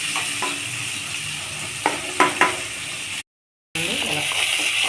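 Thinly sliced potatoes fry in a pan with a steady close sizzle, broken by a few soft stirring clinks and scrapes, then a sudden short gap of silence before the hiss resumes.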